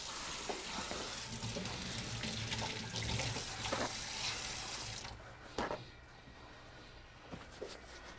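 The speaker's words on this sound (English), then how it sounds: "So we're going to wash our hands" Water runs steadily from a kitchen tap into a sink for about five seconds during handwashing while lasagna is being made, then stops, leaving a few soft clicks and knocks.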